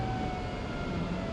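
An ambulance siren wails steadily at a distance during a Canadian winter, a thin sustained tone over low traffic rumble.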